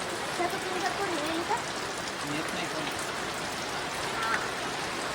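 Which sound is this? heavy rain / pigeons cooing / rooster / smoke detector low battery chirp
heavy rain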